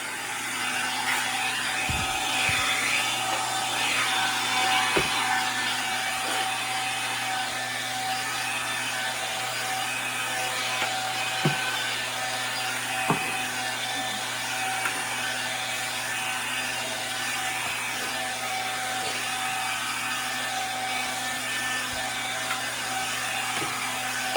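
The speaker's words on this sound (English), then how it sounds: "Gonna make sure that I run my vacuum over it." A household vacuum cleaner running steadily as it is pushed back and forth over a floor where a rug has been moved aside, a constant broadband whine with a few faint knocks and bumps, no talking.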